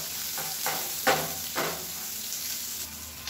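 Onions sautéing in a pan, with a constant low sizzle under a few brief scraping stirs, close and moderately loud, no voices.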